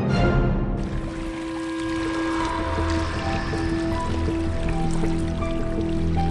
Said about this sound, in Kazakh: Су ағады, кей жерлерде толқындар пайда болып, сарайшықтың жағасына барып соғылады.